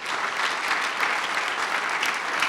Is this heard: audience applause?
yes